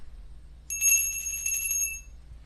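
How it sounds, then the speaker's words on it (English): A small bell is struck once and left to ring, its clear high tones shimmering for over a second before fading, heard alone over a faint low hum during a tarot card reading. "I'm gonna ring the bell to cleanse the energy."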